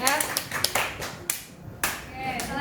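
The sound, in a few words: applause, clapping for presenting group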